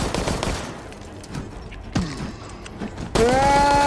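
Gunfire in the Resident Evil Resistance video game, a few sharp bursts and clanks scattered over four seconds, ending in a louder burst with a ringing tone.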